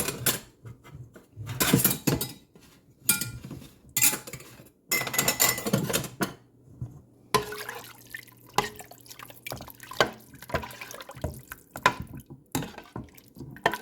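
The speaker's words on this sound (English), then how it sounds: "first I'm going to add my jar of canned potatoes." A jar of home-canned garden potatoes is tipped into a soup pot, giving close wet plops and drips mixed with clinks of glass and metal in irregular bursts.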